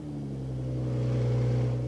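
A 2019 BMW Z4 M40i (G29) runs with a steady, close, low engine hum and no other sounds.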